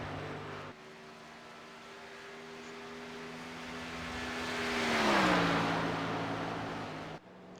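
A race car engine in an iRacing Xfinity series game at Texas holds a steady drone, then eases off the throttle with a falling pitch sweep before cutting out, sustained and fairly close with no talk.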